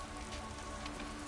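Steady rain pours down in a cave-and-wilderness video game, a dense, continuous hiss of drops on the ground, even and close, with no voices over it.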